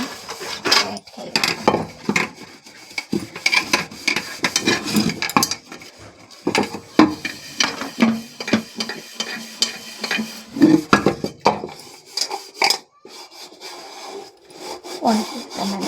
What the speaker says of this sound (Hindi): तो अभी मैं बैठ के ही बर्तन धो